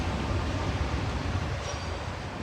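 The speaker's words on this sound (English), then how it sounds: "There goes the boat train." A boat train rumbles past in Japan, a steady low rolling roar of rail cars that fills the whole moment, loud and continuous with no voices over it.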